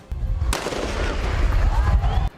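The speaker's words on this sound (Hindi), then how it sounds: "इस हंगामे को शांत कराने के लिए पुलिस को हवा में गोलियां चलानी पड़ी" Police fire gunshots into the air to disperse a protest by shopkeepers in Maharashtra, heard as a loud, harsh burst of rapid cracking noise lasting about two seconds before cutting off abruptly.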